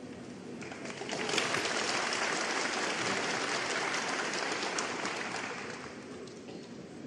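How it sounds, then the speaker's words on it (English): A snooker crowd at the Shanghai Masters 2024 semi-final cheers for Ronnie O'Sullivan against Judd Trump: sustained applause and cheering that swells after a second, holds steady, then eases slightly toward the end. "you can hear the big cheer from his supporters"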